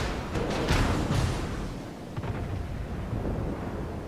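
Battleship guns fire in World of Warships, a French battleship engaging a Zietana, the salvo booming as a heavy, rumbling blast with a few sharp cracks, loud and close, then a dull rolling tail.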